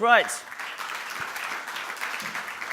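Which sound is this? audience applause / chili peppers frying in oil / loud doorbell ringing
audience applause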